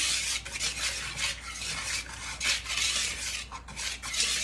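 Berry crumble mixture of blackberries and blueberries being stirred in a bowl, a close scraping and rubbing sound in repeated uneven strokes, fairly quiet and with no talking.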